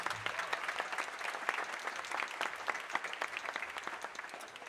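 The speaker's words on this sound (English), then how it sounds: "How about a round of applause for those three soloists?" Audience applause for three soloists at a high school steel band concert, a steady, dense clapping from a crowd that continues evenly throughout without any talk.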